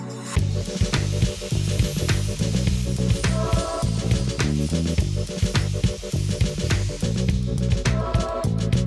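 Welding on a Honda CB400 cafe racer motorcycle foot peg and bolt, with dense crackling sizzle and irregular popping bursts, loud and close, running continuously without talk.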